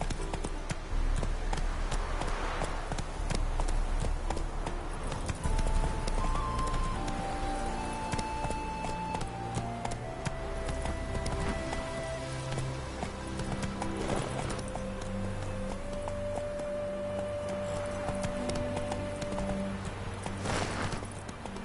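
Roach, the horse in The Witcher video game, gallops with steady rhythmic clip-clop hoofbeats, loud and close, while game music and ambience play underneath.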